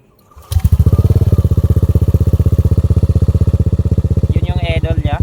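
A motorcycle fitted with a JVT pipe version 3 adjustable exhaust, set fully open, starts up and settles into a steady, loud, deep idle with an even pulsing beat; a brief higher clatter creeps in near the end.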